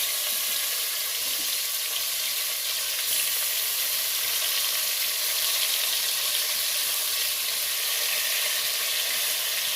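Stuffed brinjals frying in hot oil, a dense, loud, continuous sizzle with a steady hiss throughout, close up and with no talking.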